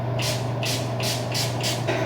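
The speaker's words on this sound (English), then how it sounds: "Hypochlorous acid spray." Six quick hissing spritzes from a hypochlorous acid facial mist spray bottle in a steady rhythm, close by, over a constant low electrical hum.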